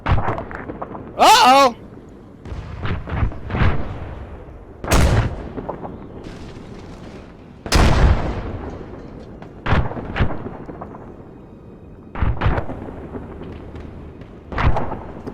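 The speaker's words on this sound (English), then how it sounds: "fucking rocket round just went overhead" Several sharp explosive booms and whooshing impacts from artillery and a rocket round passing overhead in a military video game, spaced irregularly and fairly loud, with a voice speaking briefly between them.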